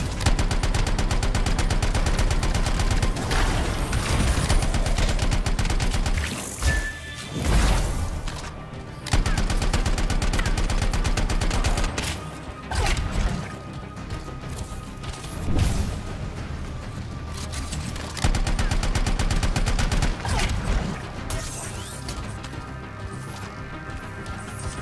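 Sustained automatic weapon fire from the video game Anthem, loud rapid bursts broken by short pauses and crashing impacts, with no talking over it.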